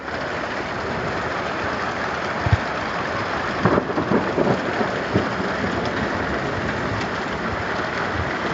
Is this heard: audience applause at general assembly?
no